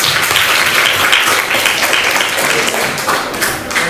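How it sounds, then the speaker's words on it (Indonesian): A classroom of students claps loudly and close by for a classmate, a busy, slightly uneven patter of many hands that swells and then thins toward the end, with no talking over it. "Tepuk tangan untuk Ziko."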